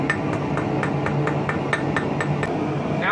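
A hammer strikes steel on an anvil while hand-forging small fishing hooks, a rapid, steady run of about a dozen sharp, ringing blows, close and loud.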